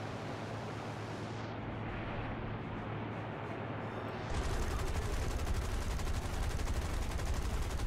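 Sustained roar of gunfire striking an aircraft in the War Thunder air-combat game, a dense, continuous crackling burst that swells louder partway through and runs without break.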